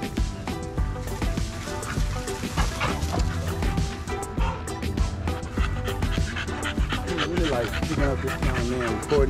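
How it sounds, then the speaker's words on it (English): American Bully dogs and puppies play-fighting together at a breeding facility: dense, close yips, barks, whimpers and panting with scuffling overlap throughout, while someone talks over the commotion. "I just want y'all to see the dogs playing"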